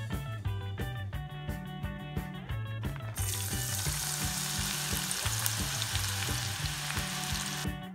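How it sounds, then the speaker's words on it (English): Shallots frying in a pan for Vietnamese spring rolls: a loud, dense sizzle starts abruptly partway through and then holds steady, with a rhythmic musical backing running underneath throughout. "Next up, we just gotta fry some shallots"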